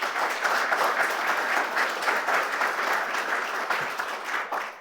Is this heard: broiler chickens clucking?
no